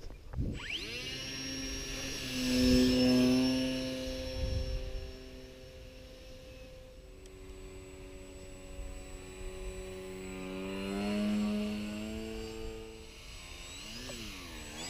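A Fun Cub model airplane, set up in a Storch style, makes a stall takeoff outdoors. Its electric motor whines steadily with a rising and falling pitch, swelling around takeoff and again later, and no one talks over it.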